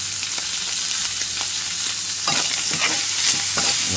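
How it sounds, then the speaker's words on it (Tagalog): Onion and tomato frying in a pan with steel-cut oats, a steady loud sizzle with a few stirring scrapes, close and continuous with no talking. "lagay na natin yung sibuyas at etong kamatis."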